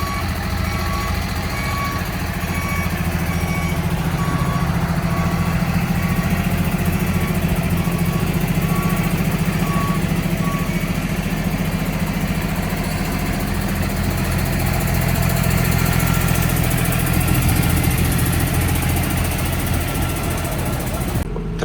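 A Zoomlion PL2304 230 hp tractor weighing 9610 kg idles with a loud, steady, close engine drone throughout, and faint intermittent beeps can be heard early on.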